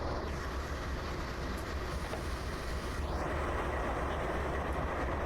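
BCOL 4647 locomotive rolling through a blizzard in Train Simulator Classic, a dense, steady rumble of wheels and engine that holds an even, loud level throughout, with no voices.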